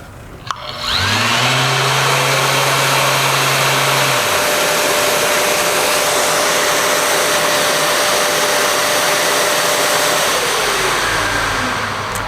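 Power sander working on epoxy, a steady loud whine and hum as the speed is stepped down from 9,000 RPM by about 1,000, the pitch dropping and holding, with no talk over it.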